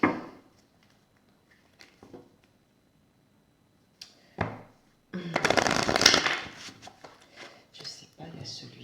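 Tarot cards being shuffled by hand at close range, a few soft taps at first, then a dense riffling burst followed by shorter shuffling bursts, with a quiet voice speaking in the pauses.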